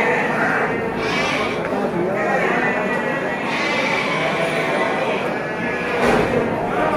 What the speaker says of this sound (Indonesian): Di sini untuk pasar domba kambingnya cukup ramai nih.